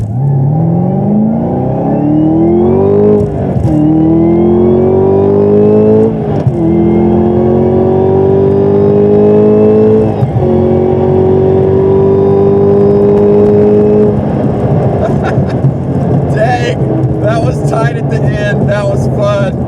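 A C6 Z06 carbon Corvette and a ZL1 1LE Camaro race a quarter-mile drag run, loud engine roar climbing through several rising gear pulls with brief shift breaks, recorded close and steady.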